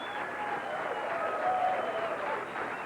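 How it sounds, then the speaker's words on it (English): Audience applause at a 1987 professional bowling championship in Dublin, California: a moderately faint, steady crowd clapping that swells slightly midway, with faint voices mixed in. "how about a round of applause for the gentleman who provided an outstanding championship match"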